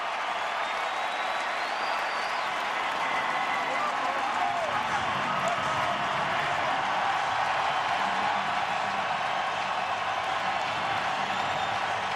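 Distant, sustained applause and cheering from a large baseball stadium crowd at a World Series Game 7 as pitcher Carpenter leaves the game, a steady roar with a commentator talking over it.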